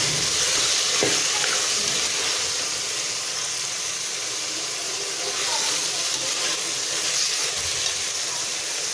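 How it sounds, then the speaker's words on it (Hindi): Keema, minced meat, fries loudly in a pan for keema matar while being stirred, a dense continuous sizzle and hiss with occasional scrapes and taps of the spoon over the whole stretch. "अब देखिए हम इसकी अच्छी सी भुनाई कर लेते हैं।"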